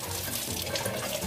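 Tap water running steadily over shrimp being washed in a sink, a continuous close splashing rush for a moment with no voices.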